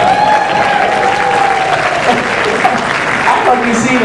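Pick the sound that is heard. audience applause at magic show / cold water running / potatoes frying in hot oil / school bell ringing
audience applause at magic show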